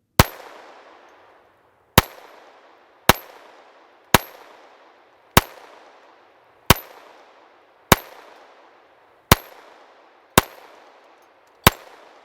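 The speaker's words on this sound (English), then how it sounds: "let's do a little bit more shooting. Let's go for the dueling tree right here." Ruger LCP II .22LR pistol firing at a steel dueling tree, ten sharp, loud shots spaced about a second apart, each with a ringing metallic clang and a short decaying tail, no talking.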